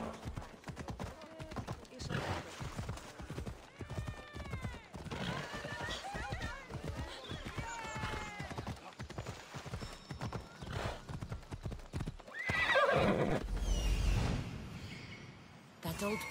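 Phobos the horse gallops in Assassin's Creed Odyssey, with steady clip-clop hoofbeats and a whinny, running under ongoing game talk and music and building to a louder rumble near the end.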